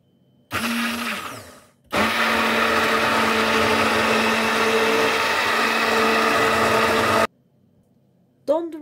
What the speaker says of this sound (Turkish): Son kez daha karıştıralım dondurmamızı.